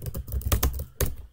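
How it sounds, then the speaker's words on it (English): A quick run of keystrokes on a computer keyboard while entering a Linux terminal command on Ubuntu, close and fairly soft, with a burst of rapid taps, a short pause, then a single firmer key press. "just type sudo apt install"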